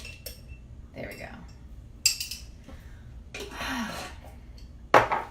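A teaspoon clinks and scrapes in a bowl of sticky raw energy bite mixture, giving a few sharp metallic taps spread over several seconds, the clearest near the middle and end, with soft handling noise between them.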